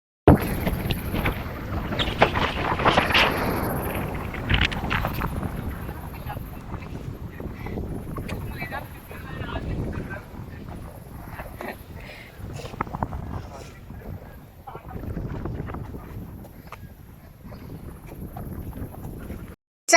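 A boat crosses water toward the shore, with a steady low rumble of motion and water under constant wind buffeting the microphone, and faint scattered voices and clatter.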